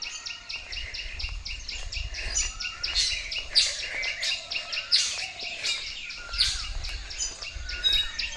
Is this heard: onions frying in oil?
no